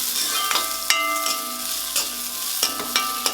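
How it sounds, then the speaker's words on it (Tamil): Shallots sizzle and crackle steadily in oil in a pan, with sharp clinks of a utensil stirring at irregular intervals, close and fairly loud. "சின்ன வெங்காயத்தை போட்டு அதையும் வறுத்துக்கலாம்"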